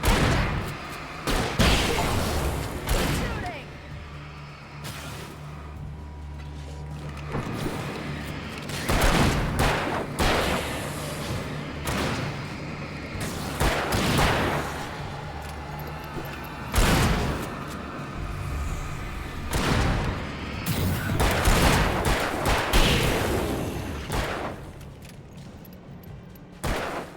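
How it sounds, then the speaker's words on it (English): Repeated loud gunshots and booming volleys in the video game Alan Wake, heavy bursts recurring throughout amid game action and background rumble. "Shooting!"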